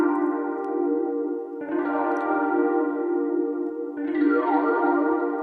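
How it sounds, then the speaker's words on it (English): A phaser effect sweeps across a sustained synth chord in an electronic music production session in Logic, giving a swirling, whooshing modulation. The music plays loud and steady with no talking. "Phaser's cool. Let's do a phaser."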